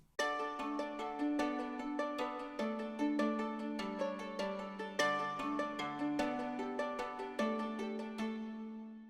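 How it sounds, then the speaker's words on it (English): Labs Moon Guitar and Mandolin virtual instruments play interlocking plucked rhythm patterns, panned hard with reverb, as a quiet, steady stream of bright, short notes that ring briefly. "here you'll see that I've used the Labs Moon Guitar and Mandolin"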